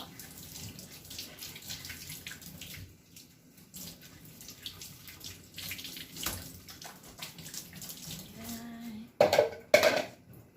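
Baby potatoes being washed under a running tap, with a steady splashing water stream and clattering of the potatoes and container, louder bursts near the end as they are handled.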